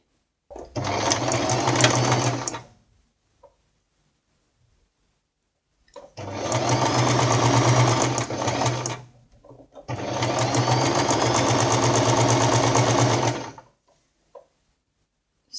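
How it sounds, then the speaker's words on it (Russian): A sewing machine stitches the back seam of a girl's sundress in three steady runs, the first short and the next two longer, separated by pauses. The whirring is close and loud, with no talking over it. "Стачиваю шов."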